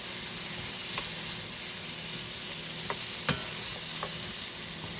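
Potatoes fry over medium-high heat in a pan, a loud continuous sizzle with occasional scraping clicks and knocks as they are stirred around, with no speech.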